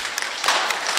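An audience at a church gathering claps for Mama Beatrice, a dense burst of applause filling the short moment.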